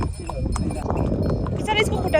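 Hooves of a horse clip-clopping during a ride, a few irregular hoof knocks close by, under a person talking.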